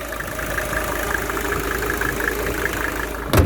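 Mercedes E250 W210 non-turbo pre-CDI diesel engine idling, a steady low clattering rumble heard close up and continuous, ending in a brief bump at the close.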